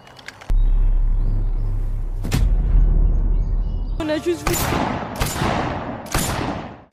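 Sharp, loud gunshots crack out in a burst, one after another, over a low rumbling background, with a couple of isolated shots before.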